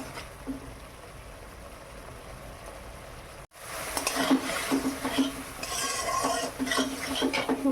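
A metal spoon scrapes and clinks in a pan as spice paste gently fries, with a soft background sizzle and a brief cut midway before the louder stirring resumes.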